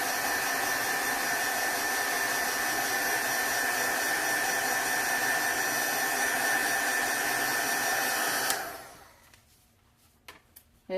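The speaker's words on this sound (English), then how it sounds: "I've got my heat gun here. You'll dry it quickly. Just apply a little bit of this heat." A heat gun blows a steady, loud whooshing hum for about eight seconds while drying paint on a wooden sign, then cuts off abruptly, leaving near silence with a few faint knocks.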